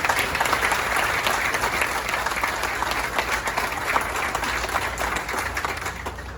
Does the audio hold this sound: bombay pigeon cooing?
no